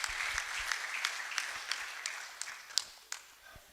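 A church congregation claps in a loose, fading round of applause, with scattered sharp claps standing out as it tapers off.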